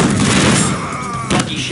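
Loud gunfire in Unreal Tournament 2004 with a ballistic weapons mod during a deathmatch, a dense burst of shots and booms filling the short moment with a second sharper report near the end.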